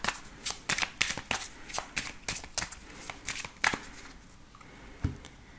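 A deck of oracle cards is shuffled close by, a run of quick crisp riffling snaps that thin out toward the end, with no talking.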